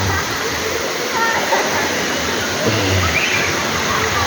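Balite Falls in Amadeo, Cavite, pours with a constant, full rush of falling water, loud and close, with faint voices briefly audible beneath the roar.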